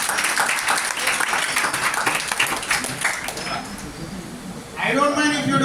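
An audience applauds a student speaker at a youth lecture, a dense wash of clapping that fades after a few seconds and gives way to a voice speaking.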